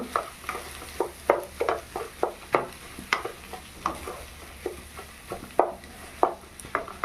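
A spice masala mixture for a snack filling is stirred in a pan, giving repeated scraping strokes at an irregular rhythm, close and clear with a soft background hiss and no talking.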